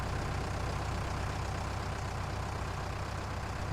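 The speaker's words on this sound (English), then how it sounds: "It's got your tractor noise." A small 185-horsepower tractor's engine hums steadily in Farming Simulator 19, a continuous low drone with a faint rhythmic pulse, moderately loud and alone.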